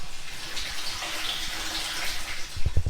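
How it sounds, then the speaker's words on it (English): Water runs steadily from a hose into a tractor sprayer tank, a soft continuous hiss and splash with a few low thumps near the end, fairly faint and heard alone. "I'm gonna put some water in it."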